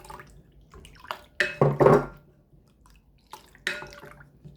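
Half a bowl of cold boiled water poured into dissolved mango pudding mix, several close splashy pours in bursts with a short pause, then a final splash near the end.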